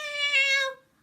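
A single drawn-out cat meow in a children's story about skeletons, most likely voiced by a storyteller imitating the cat, clear and close, fading out after under a second.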